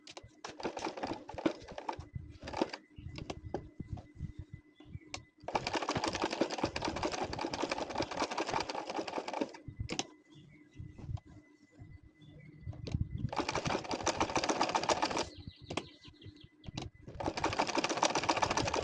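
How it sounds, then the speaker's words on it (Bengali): A sewing machine stitches a nakshi kantha quilt, running in close, rapid, clattering bursts of several seconds, separated by quieter gaps filled with fabric handling. "ওইখানটাতে আমি দেখেন সেলাই করে নিচ্ছি"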